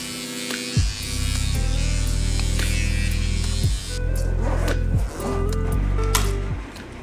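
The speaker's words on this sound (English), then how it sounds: "I'm gonna shave, and I'm using this Panasonic wet and dry shaver I actually recently got" Loud, close Panasonic wet and dry electric shaver buzzing steadily, switching tone as it presses against skin, with short breaks between passes.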